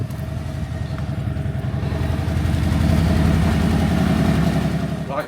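A Harley-Davidson Street Bob motorcycle engine idles with a steady low throbbing rumble, close and continuous, swelling slightly partway through.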